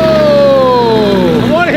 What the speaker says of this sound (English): You guys want to hear the first start of the top-mounted FI exhaust?